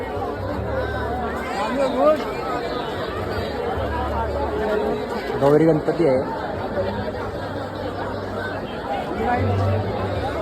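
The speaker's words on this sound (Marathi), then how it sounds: "ही लालबागची गर्दी आहे पनवेल" A dense crowd at the Lalbaug Ganpati festival in Panvel keeps up a steady babble of overlapping voices close around, with a drumbeat pulsing underneath and a nearby voice speaking over the hubbub.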